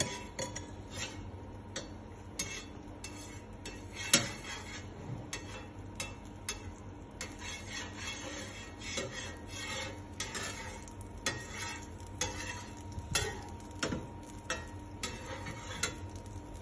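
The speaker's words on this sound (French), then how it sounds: "Frottez la poêle avec un peu de beurre pour éviter que les crêpes ne collent" A frying pan for crepes is rubbed with butter: soft, steady scraping with light, irregular ticks and taps of metal throughout, at close range and without talk.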